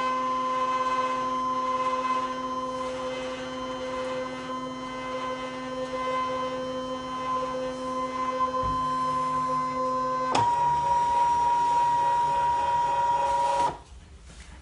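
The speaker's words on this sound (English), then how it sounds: "So we'll go to the background scan," A Brother ScanNCut cutting machine runs a background scan, giving off a steady, close mechanical whine with a constant tonal hum that shifts pitch twice before the motor winds down near the end.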